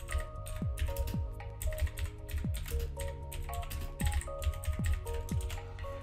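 Fingers type on a computer keyboard in steady clusters of quick close key clicks, with a low electronic hum and some faint tonal sweeps underneath.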